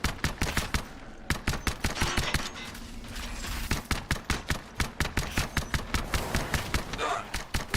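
Rapid, steady gunfire from a single-fire gun in the game Anthem, a long string of punchy close shots in a quick rhythm that continues throughout, over faint game ambience.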